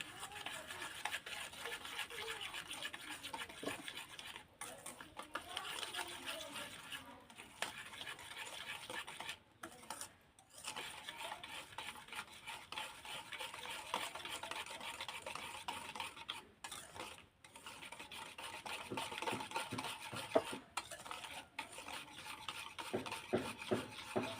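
Eggless niramish cake batter with oil and sweetener is mixed in a bowl, a continuous soft scraping and stirring with brief pauses, close but quiet, no talking.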